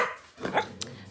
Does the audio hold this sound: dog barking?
yes